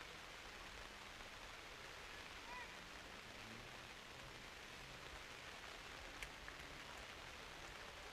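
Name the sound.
rain falling on a wet lacrosse field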